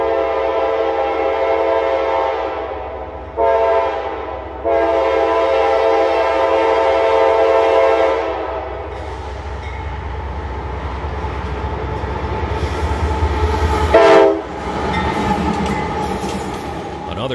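Freight train Q235, carrying auto racks to Taft, Florida, rolls past a Southern crossing near Lakeland Junction in Florida. A loud, sustained horn blast fades into the heavy rumble and clatter of passing railcars, with a second short horn burst near the end.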